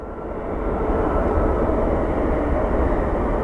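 An airliner in Star Alliance livery rolls at Phoenix Sky Harbor, its jet engines building to a steady, loud broadband roar that holds strong to the end.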